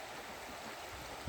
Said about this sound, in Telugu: గుండాలేట్లో నీళ్లు ఈ విధంగా ప్రవహిస్తున్నాయి